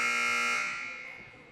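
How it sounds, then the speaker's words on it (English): A basketball scoreboard buzzer at a freshman high school game sounds one steady, loud electronic tone that holds for about half a second and then fades out. "the buzzer's working again"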